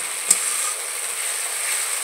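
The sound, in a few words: spice paste being fried in oil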